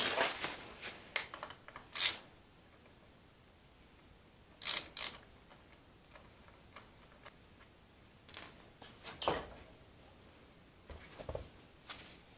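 Bolts are loosened on a core aerator with a ratcheting wrench, giving scattered bursts of clicking and metallic ticks separated by quiet pauses, fairly close and moderately loud.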